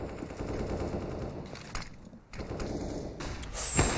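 Rapid automatic gunfire in CS:GO during a match on Mirage, heard as bursts of rattling shots with a brief lull midway, fairly faint and at a moderate distance.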